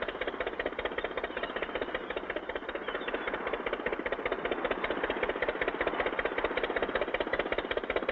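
A steady, rattling boat engine chugs at an even rhythm, continuous and mid-pitched, like a motor running at a constant pace.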